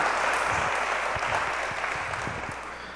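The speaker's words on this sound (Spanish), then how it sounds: "Démosle un aplauso a nuestros modelos." Applause from a church congregation at a Sunday service, a dense steady wash of clapping that stays loud throughout and tapers slightly toward the end.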